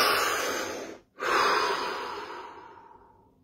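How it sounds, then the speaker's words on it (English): One slow, deep breath is drawn in and then released in a long, steady exhale, close and clear with no one speaking, during a guided relaxation session. "Deep breath."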